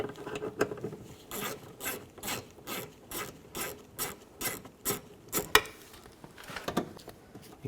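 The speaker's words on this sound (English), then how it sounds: "Take a 10mm socket and loosen up the bolts." A 10mm socket ratchet loosening bolts on a 2004-08 Nissan Maxima during a driver's side window regulator replacement makes a steady run of rhythmic, close clicking ratchet strokes, about two per second, with no talking.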